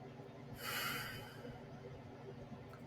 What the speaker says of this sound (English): Now what you are going to do is you're going to take a few breaths